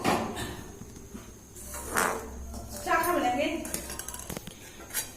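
A spoon scraping and clinking against a metal pot while milk with cardamom is stirred for a Bengali sweet vermicelli dish, with scattered clatters and knocks and a louder clank near the end.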